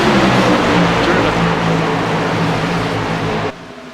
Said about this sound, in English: Let's give these guys a view and sound of what these guys are hearing in the race cars